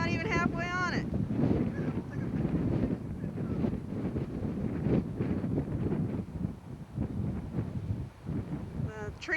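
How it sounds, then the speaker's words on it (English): Strong wind on a high bridge in Colorado buffets the microphone in a continuous low, rumbling roar, gusting steadily for several seconds with a brief voice at the start. "we are not going to go out on the bridge because it's too damn windy"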